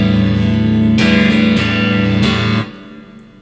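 A sustained, heavily processed electric guitar chord on the neck pickup, played live through a Line 6 G10 wireless, rings out, restruck a few times with bright attacks, then cut off abruptly near the end, leaving a faint tail.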